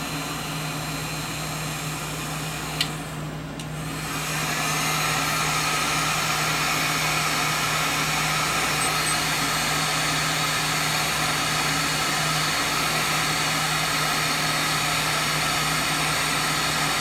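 Multi-speed air purifier rewired to a single permanent speed, its fan blower running with a steady whooshing drone and constant hum; a brief click and dip, then the airflow settles slightly louder and continues evenly, alone.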